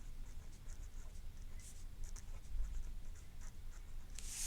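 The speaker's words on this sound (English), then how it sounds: "I'm going to draw it over on a separate paper here." A pen draws on a separate sheet of paper, a steady close scratching with short strokes and pauses, fairly quiet and heard alone.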